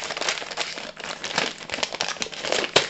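Close, loud crinkling and crackling of packaging as an advent calendar is opened, a dense run of sharp rustles and crunches filling the moment with no talk.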